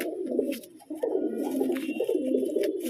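Pigeons cooing close by in repeated low, throaty rolling phrases, with faint background noise and no speech.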